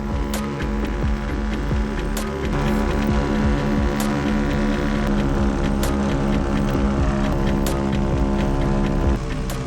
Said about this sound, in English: the 3 motors accelerate with a deafening roar